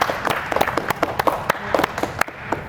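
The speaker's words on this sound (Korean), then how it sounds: "큰 박수로 환영해 주십시오." A church youth congregation applauds to welcome an announcer at a Sunday worship service, a steady roomful of clapping with scattered sharper individual claps throughout, fairly loud and close.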